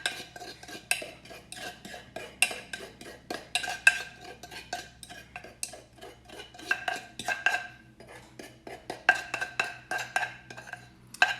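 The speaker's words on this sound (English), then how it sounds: "I scrape a lot because I don't like to leave any garlic behind" A utensil scrapes and clinks around a mixing bowl of garlicky crab cake mixture, giving repeated close metallic scrapes and taps in an uneven rhythm, with no talk.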